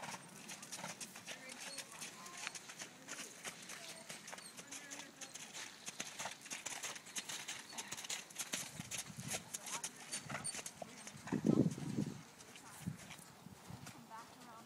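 Horses walk in rainy weather at Coppanagh in October, hooves clip-clopping in an uneven rhythm at moderate distance, with a brief louder snort or whinny near the end and people talking quietly throughout.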